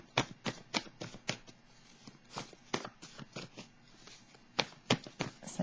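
Tarot cards cut and handled at close range in a quiet room: a run of crisp slaps and papery riffles, some of them close together, others spread apart, with no voices.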